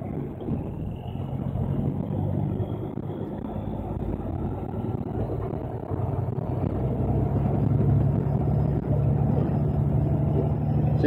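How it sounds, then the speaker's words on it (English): An 18-wheeler semi truck pulls forward from the driver's seat: a steady low engine rumble with road and wind noise that builds slightly in loudness, no talking. "Daryl asked me, how do you drive an 18-wheeler? I'll show you."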